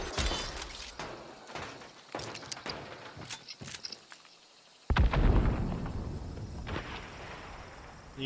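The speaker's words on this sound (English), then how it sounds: "Why do I hear there's someone shooting?" Gunfire in the video game Hunt: Showdown: a series of sharp, scattered shots crack out irregularly, some quieter and more distant, with a heavier burst near the middle over faint background ambience.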